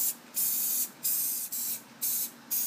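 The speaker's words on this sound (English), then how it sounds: "Now, another quick spray." Cooking spray hisses in four quick bursts over pastry-topped Aussie meat pies before they go back in the oven to brown, each spray about half a second long with short pauses between.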